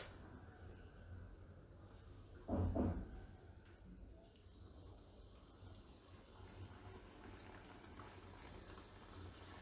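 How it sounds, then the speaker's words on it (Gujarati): Lilva kachori fry in hot oil over a low flame, a faint, steady bubbling sizzle with one brief louder knock near the start. "આ રીતે આપણે બધી તળી લેશું."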